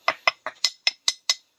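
Seven quick metallic clinks from tapping on steel ring out one after another in an even rhythm, close and fairly quiet, each a short bright ping with a brief decay.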